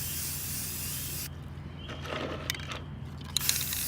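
A spray paint can hisses in a steady spray for over a second, then sputters in shorter bursts with small clicks amid a low background hum.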